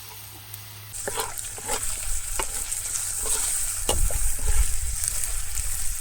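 Onion paste and ginger garlic paste fry for a toddy palm chicken curry, a continuous close sizzle with repeated spoon scrapes and stirring knocks that grow louder and denser toward the end.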